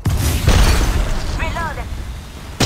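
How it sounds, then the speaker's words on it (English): A thermite grenade goes off in the Apex Legends Mobile game with heavy low booms and a burning rumble, loud and close, a brief game voice cutting in midway. "Throwing thermite."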